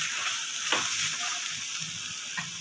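Spiced potato masala for aloo paratha is mixed together in a pan: a soft, steady sizzle broken by a couple of brief spatula scrapes, fairly quiet and with no voices.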